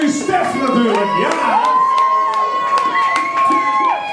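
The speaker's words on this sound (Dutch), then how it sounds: "applaus voor de one and only Stef natuurlijk." A crowd at a 2010 party event cheers and shouts loudly while music plays, with whoops and sustained voices swelling throughout.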